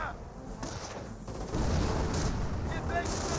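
Rifle fire from infantry squads in the strategy game Company of Heroes crackles in scattered bursts under a rumbling battlefield din, growing louder midway, with a voice talking over it.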